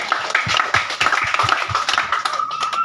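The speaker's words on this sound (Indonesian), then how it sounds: "Ya, kita tepuk tangan untuk Tuhan Yesus." A church congregation aboard a ship clapping their hands, a rapid and fairly close patter of claps with faint background voices.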